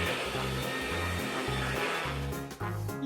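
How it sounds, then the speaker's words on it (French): A vacuum cleaner with a child-size sock over the nozzle runs loud and close as it sucks up toys, a steady whooshing roar with pulsing low thumps and a brief dip near the end. "On peut ramasser les autres jouets avec l'aspirateur."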